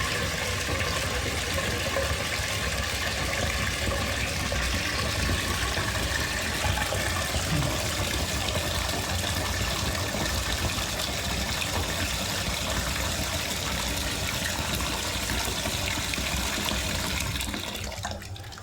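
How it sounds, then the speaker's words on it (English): Cold water pours steadily from a tap into a fish tank container, a constant rushing gush that stays loud and close for the whole stretch before easing slightly at the end. "put some cold water in there"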